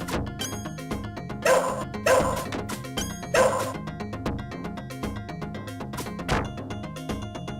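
A dog barks in a video game, the barks mixed into dense game music and sound effects with a few louder thumping hits, and no one talks over it.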